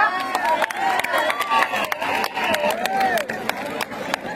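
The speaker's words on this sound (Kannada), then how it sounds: "ಸ್ವಾಗತದ ಚಪ್ಪಾಳೆ ಬರಬೇಕು ನಿಮ್ ಕಡೆಯಿಂದ" A stage audience at a Saregamapa show in Sindhanur greets a singer, with scattered clapping and cheering mixed with crowd voices and shouts, moderately loud and close throughout.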